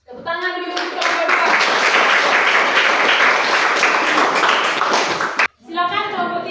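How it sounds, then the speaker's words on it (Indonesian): An audience applauds a group of students in a classroom, giving a dense, loud burst of clapping that holds steady for about five seconds, with children's voices heard just before and after. "Tepuk tangan dulu untuk kelompok"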